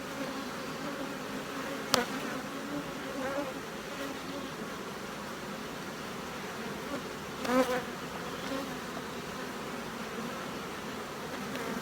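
Honey bees buzz steadily in an open hive during a frame inspection of brood, with a few louder passes close by; no voices.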